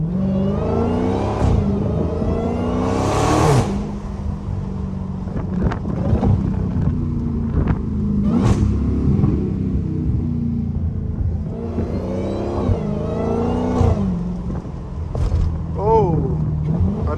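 A Dodge Hellcat's engine rumbles and revs with a loud exhaust, surging in several bursts over a steady low drone and wind buffeting, with occasional pops.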